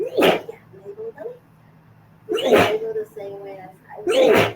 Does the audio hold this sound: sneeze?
yes